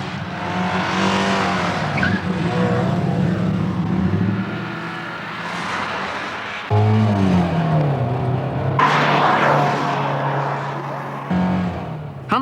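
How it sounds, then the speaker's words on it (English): Ford Sierra road car sliding around a corner on a track, engine revving hard with tires squealing as it drifts through, close and loud, the note dropping and rising again with throttle changes. "he slides the car around the corner"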